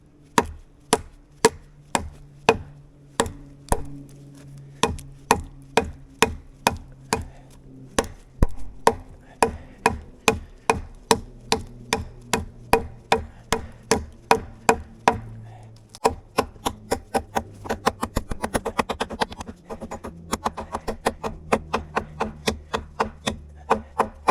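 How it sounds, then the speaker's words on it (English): An AliExpress BK2 knockoff knife chops through a piece to cut it in half, delivering loud, sharp, evenly spaced strikes that quicken into a faster, denser run of blows near the end, with no talking. "We're going to try to get this completely chopped in half, and then we're going to go to this one, same thickness, with the genuine Becker"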